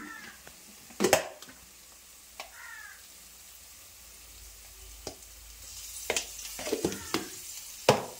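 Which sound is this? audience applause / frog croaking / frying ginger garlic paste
frying ginger garlic paste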